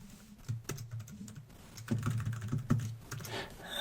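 Keys clatter on a computer keyboard in quick, uneven bursts of close, light clicks with a short lull between runs of typing.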